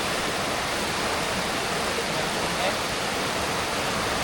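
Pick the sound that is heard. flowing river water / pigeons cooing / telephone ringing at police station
flowing river water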